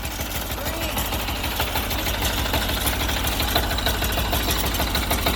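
A Sears Suburban tractor rebuilt as a snow plow and fitted with a 6HP diesel engine runs steadily at low throttle, giving a loud, continuous chugging rumble nearby with a fast knocking pulse, while people talk over it.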